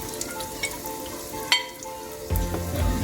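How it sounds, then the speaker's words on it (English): Fish cakes go back into a pot with bok choy and noodles over a steady hiss of frying, with a sharp clank midway and a louder, fuller sizzle swelling in near the end. "And now that we have our bok choy and noodles ready, we put our fish cakes back into the pot"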